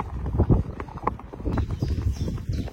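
Horse hooves clip-clopping on a forest path as the horse moves up into a trot, a steady close rhythm of overlapping footfalls with faint rustle between the strikes.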